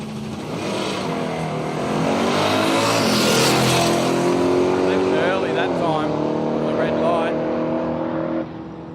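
A light drag racing car launches down the strip at Willowbank Raceway in Australia during a road trip drag challenge, its engine note climbing through the gears as a loud, steady roar under a commentator's voice, then cutting off abruptly.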